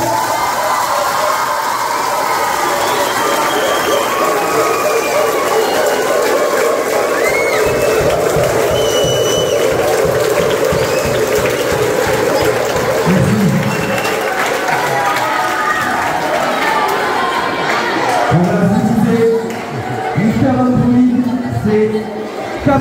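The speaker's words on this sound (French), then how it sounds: "tonnerre d'applaudissements" Large crowd at a beatbox show cheering and applauding as Mister Android takes the stage, a dense, loud, continuous wash of noise that lasts throughout and swells with whoops near the end.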